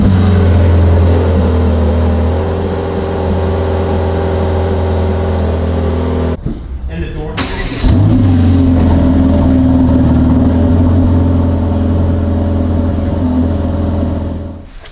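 A 2021 Mercedes-AMG GT Black Series, a 720-hp supercar, runs loud and near with a sustained engine drone, a sudden drop-off and brief rasp midway, then the engine swelling back up and holding strong.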